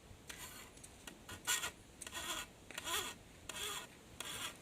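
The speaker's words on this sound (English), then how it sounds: "sharpen the other side again, the first side again," A cane knife blade is sharpened by hand in a series of short, quiet rasping strokes. About eight uneven scrapes follow one another at close range.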